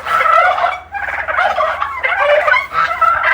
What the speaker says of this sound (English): And the turkeys are being loud, as usual.